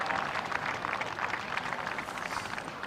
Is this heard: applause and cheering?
yes